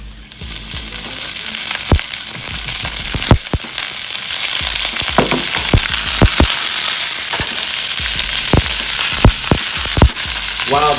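Olive oil sizzling steadily in a frying pan at breakfast prep, a dense continuous hiss peppered with sharp pops and crackles, close and loud with no talking over it.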